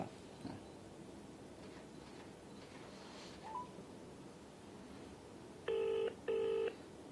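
Two short electronic phone ring bursts in close succession come near the end of an otherwise quiet stretch with faint background hiss, the call going unanswered.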